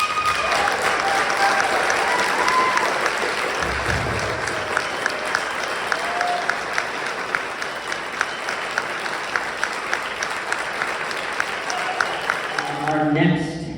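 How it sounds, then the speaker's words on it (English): An audience at a school band awards concert applauds an Improvement Award winner: sustained, dense clapping fills the hall for over ten seconds, with a few sharper single claps near the end and brief talk as it fades. "So please give a round of applause to our first Improvement Award winner, Mr. David Sazecki."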